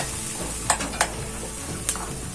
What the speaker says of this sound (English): So I'm going to add the rice, stir it in, incorporate